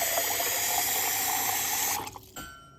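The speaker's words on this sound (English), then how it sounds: "So what I'm gonna do is just add the water in here." Water running from a kitchen tap, a steady loud hissing stream that cuts off abruptly near the end, followed by a few brief drips and clinks.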